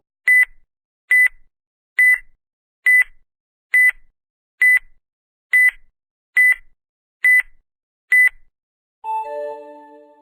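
A countdown timer for a riddle game beeps nine times in a steady, evenly spaced rhythm, loud and alone against silence, then closes with a lower, longer tone.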